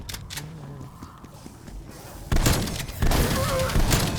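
Shotgun blasts in the Call of Duty Cold War Outbreak zombies mode, a couple of loud booming bursts arriving after quieter game ambience, close and harsh, with faint game voice chatter in the background.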